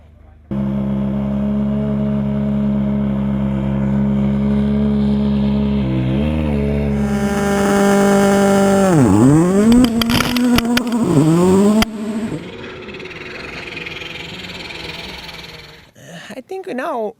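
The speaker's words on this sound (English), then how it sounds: "I love the sound of the car, the turbo whistling when you are really going with the fourth and the fifth gear" A rally car at a Rally Finland test session drones loudly with its turbo engine, shifting up through the gears and then swooping in pitch as it passes close by, with a high whistle riding over the roar.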